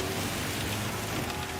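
Steady rain from the Gran Turismo racing game during a GR4 Team Tourer race at the Nürburgring GP, a continuous hiss of falling rain with a low hum underneath, constant and fairly faint throughout.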